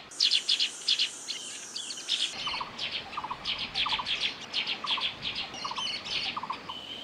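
Noisy birds call in Bhutanese forest, a dense chorus of high, rapid chirps and repeated tweets overlapping throughout, fairly close, with a steady insect-like buzz beneath and no voices.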